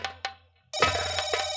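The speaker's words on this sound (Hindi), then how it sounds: "मैं कहता हूँ फोन उठा।" A telephone bell rings in a nautanki stage scene: two short chirps come first, then a sustained, bright metallic ringing with bursts of clatter, fairly loud and alone.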